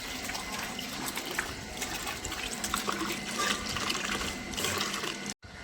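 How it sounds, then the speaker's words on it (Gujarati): Water runs steadily into a clay pot, making a continuous close gush and splash that fills the scene, then cuts off abruptly near the end. "ભાભી માટલી ભરાઈ જઈ"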